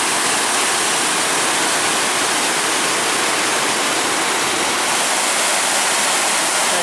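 Tahquamenon Falls in Michigan roars steadily, a dense, constant rush of cascading water close by with no breaks.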